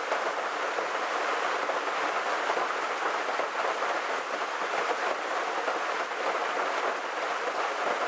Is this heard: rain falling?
yes